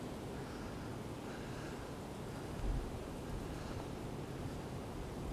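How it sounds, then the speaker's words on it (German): Strong wind blows outdoors beside water, a steady broadband rush with a brief louder gust near the middle, alone with no voices. "da blast wieder der Blasius ordentlich."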